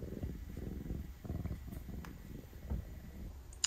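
Soft, low rhythmic purring of a cat, close and quiet, pulsing in steady breaths with a faint background hum.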